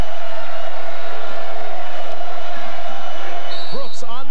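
A sellout crowd of over 14,000 at a 1994 Nebraska versus Michigan State basketball game fills the arena with a steady roar beneath an announcer's commentary, with a brief high squeak near the end.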